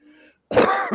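A single sharp cough or throat-clear bursts out loudly after a faint tonal hum and a brief silence, with a second short burst at the end.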